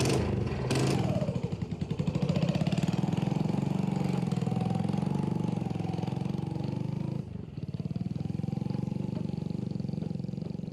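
A motorcycle engine idles close by in a steady, low, throbbing rumble. It holds for the whole stretch with only a brief dip partway through.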